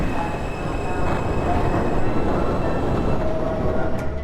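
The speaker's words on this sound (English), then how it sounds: "First up, we have the subway with a working train." A subway train runs through a small underground station in the Blade and Sorcery game, a steady, loud rumble of wheels on rails with faint squeals, continuous throughout.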